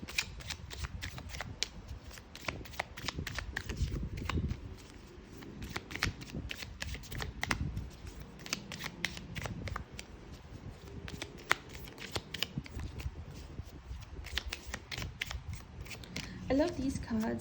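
Tarot cards are shuffled by hand in a quiet room, a continuous run of soft riffling flutters and crisp card snaps, close and fairly faint, with someone talking over parts of it.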